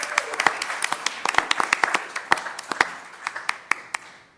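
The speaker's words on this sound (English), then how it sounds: "Let's give Anna a big round of applause." A small audience at a school board meeting claps for a retiring kindergarten teacher, with scattered, distinct handclaps that are brisk at first, then thin out and fade over a few seconds.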